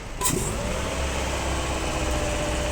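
A diesel car engine held steady at about 2000 rpm, running during a cleaning of its air intake and EGR system: a continuous, even mid-pitched drone that stays loud and level, with a brief rise at the start and no talk over it.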